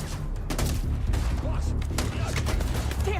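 Combat in the video game Starfield, with rapid gunshots cracking in quick succession over a rumbling low background, shots dense and fairly close throughout.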